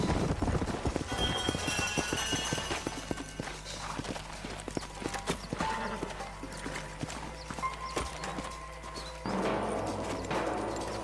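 Horse hooves in Red Dead Redemption clip-clop in a steady rhythm, fairly close, with faint background noise and a brief whinny.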